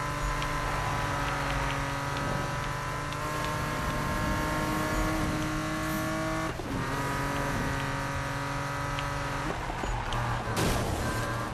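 Race car engine in Need for Speed 2015 roaring at steady high revs with a nitrous boost, tonal engine harmonics shifting through the whole run, a sharp burst near the end, loud and continuous with no talking.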